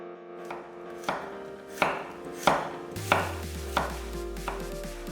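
A knife slices a halved, seeded Korean melon into 0.5 cm slices on a cutting board, producing a series of about eight crisp, evenly spaced cutting thuds, close and clear with no talking.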